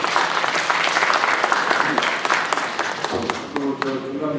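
An audience at a town-hall meeting with the mayor gives a round of applause, dense and steady for several seconds before thinning out, with voices mixed in toward the end.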